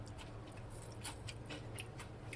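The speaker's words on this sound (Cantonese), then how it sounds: "想知道有幾脆啊？ 咁咪攞少少碎食啊！" Crunchy deep-fried oyster batter bits are chewed close up, giving faint, irregular crisp crackles and snaps over a low background hum.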